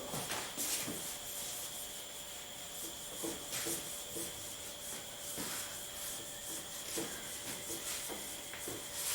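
Writing rubbed off a classroom board with a duster, a steady scratchy hiss of repeated back-and-forth strokes close by, with no talking.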